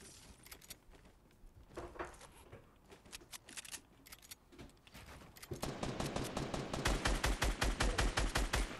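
Rapid gunfire from a video game on a laggy server, with scattered shots at first and then a dense, loud stream of repeated bursts in the second half.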